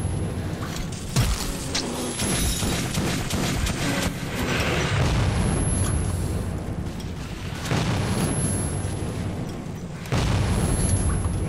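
Metro 2033 game grenade explosions, a series of deep booming blasts and rumbling bursts, loud and close, the strongest hits coming near the start and again toward the end.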